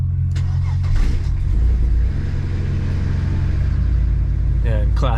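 A Mercedes C36 AMG with the M104 engine, not run for a while, fires up and settles into a loud, steady low rumbling idle that holds throughout, with a voice heard briefly near the end.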